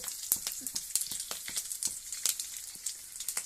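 Tomato, chilli and onion sauté in a pan for mango and drumstick sambar, a soft hiss broken by frequent quick clicks and spatters of spitting oil up close.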